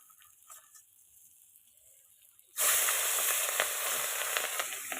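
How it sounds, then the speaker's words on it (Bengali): Eggplant slices hit hot oil in a pan and burst into a loud, steady sizzle halfway through, after a quiet start with faint kitchen noise. "এই ধারে বেগুন কাটা হয়েছে বেগুন ভাজা হবে"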